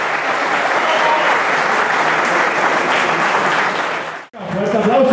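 Applause for a trombone performer at a Colombian music concert, a dense, loud burst of crowd clapping that holds steady for about four seconds, cuts out abruptly, then resumes with voices mixed in.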